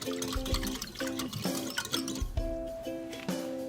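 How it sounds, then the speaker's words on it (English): Yeast and sugar substitute being stirred into warm water in a bowl: rhythmic swishing with repeated ringing clinks of a utensil against the sides, quiet and close. "we're gonna mix, and we wanna mix this together until we dissolve that sugar substitute"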